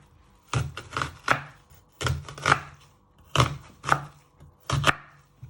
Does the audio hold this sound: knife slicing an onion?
yes